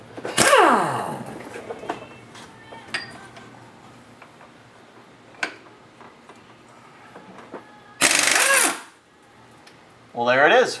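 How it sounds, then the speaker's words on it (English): An impact wrench hammers loose the crankshaft bolt on a Toyota 2UZ-FE/3UZ-FE V8: two loud, rattling bursts near the end, the first about a second long and the second shorter, after quieter clanks and a voice. "our impact wrench was able to break that loose with extreme ease"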